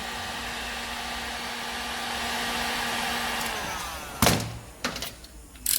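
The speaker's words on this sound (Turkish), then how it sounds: "Burada görüyorsunuz fönle keseceğiz bunu." A hair dryer blows with a steady, close whir while heating a part during an evaporative valve repair on an Opel Astra J 1.4 Turbo, then stops, followed by a few sharp knocks and thunks.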